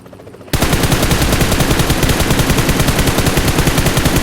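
A helicopter in PUBG Mobile cuts in abruptly and loud after a quiet start, its rotor beating in a fast, steady, even chop that continues without pause.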